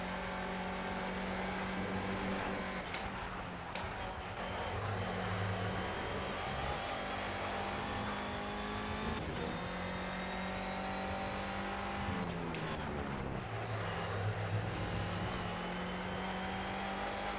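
A steady race car engine drone in Project Cars with a constant buzzing vibration, rising and falling slightly in pitch as the car runs, loud and continuous.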